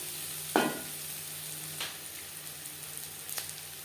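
Onions sizzling in a pan with salt and turmeric for egg curry, a soft steady fry close by with a few sharp scraping stirs of a spoon, no voices over it.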